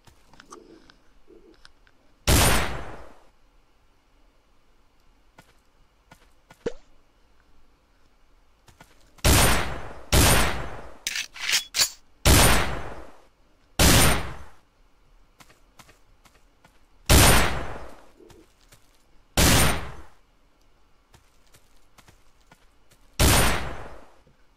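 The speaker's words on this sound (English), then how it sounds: "Rose is standing behind the fence and shoot one of the targets from there" Gunshots ring out at targets during gun training, roughly ten sharp, loud reports spaced irregularly, some alone and some in quick pairs or a cluster, with quiet outdoor background between them.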